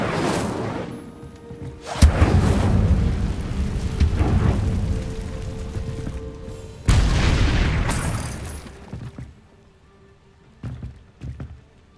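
Incendio fire spell blasts in the Hogwarts Legacy video game. Two loud, booming bursts roar out several seconds apart, each fading into a rumbling tail, with a few fainter thumps near the end.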